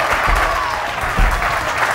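Studio audience applause for magician Sergio on a Spanish TV show, a steady wash of clapping with a couple of louder swells, no clear voices over it.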